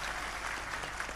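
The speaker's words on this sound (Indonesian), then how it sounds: "kita tepuk tangannya meriah untuk Bapak Kapolda" Applause from a crowd at a gathering in honour of a regional police chief, a brief dense wash of clapping at moderate distance.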